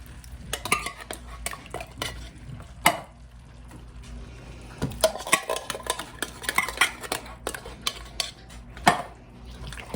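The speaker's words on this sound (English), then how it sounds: "And give that a good stir." Homemade chili with canned tomato sauce being stirred in a pot, a spoon scraping and clinking against the sides in irregular bursts with a soft sizzle underneath.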